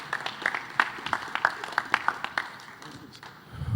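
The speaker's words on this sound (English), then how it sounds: "Please give them a round of applause." A short round of applause for a panel at a cloud computing conference session, a modest crowd clapping in a fairly quick, uneven patter that thins out and fades after a few seconds.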